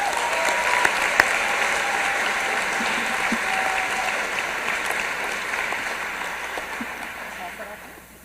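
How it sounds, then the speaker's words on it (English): An audience at an award ceremony applauding steadily, a dense wash of many hands clapping that holds for several seconds and then fades toward the end. "could we have one more round of applause for all of the incredible humans here in front of us"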